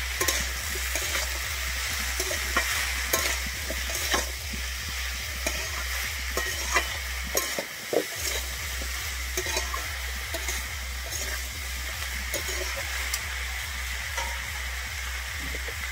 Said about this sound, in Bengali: আমি আবারও নুন হলুদটা ভালোভাবে মিশিয়ে নিচ্ছি